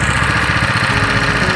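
A homemade trike's 13-horsepower engine idles steadily up close, a continuous low mechanical rumble with even throbbing and vibration and no voices over it.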